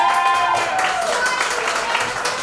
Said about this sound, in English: Give Silver a round of applause.